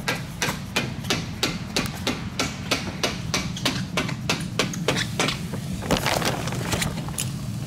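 A hammer taps a bolt out of an aircraft wing in a steady run of sharp metallic strikes, close and loud over a low background hum, with a brief cluster of louder hits near the end.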